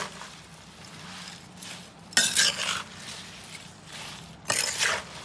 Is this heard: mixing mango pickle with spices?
yes